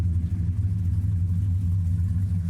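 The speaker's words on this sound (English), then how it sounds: "We always like to start the car" 1969 Buick Skylark engine idling after starting, a steady low rumble that holds even and close without pause or revving.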